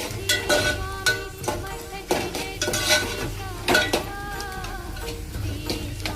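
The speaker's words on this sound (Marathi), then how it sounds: "चला 2 सेकंद यालाही परतून घेऊया, म्हणजे मिरचीचं जरा तिखटपणा जाण्यासाठी." Peanuts and green chillies are sautéed in a pan, with a spoon scraping and clinking against the metal in irregular close strokes over a faint sizzle.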